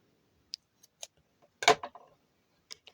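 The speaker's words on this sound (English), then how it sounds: "And then now you can cut your yarn." Scissors snip through crochet yarn with a few quiet, sharp clicks and one slightly louder cut near the middle, close and alone with no talking.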